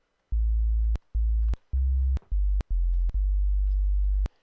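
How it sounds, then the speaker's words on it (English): A VST synth plugin set up for bass plays a plain sine wave, six separate sustained low notes of varying length with short gaps between, each one clean and loud, with no voice. "when we play it like that, we just get a plain old sine wave"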